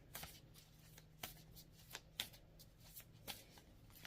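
Tarot cards being shuffled by hand, a series of soft riffling bursts and taps spaced irregularly, close and quiet in a still room.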